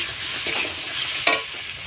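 Masala for a fish curry with taro fries and is stirred in a pan, a steady sizzle with two brief scraping strokes of the spoon, close and alone.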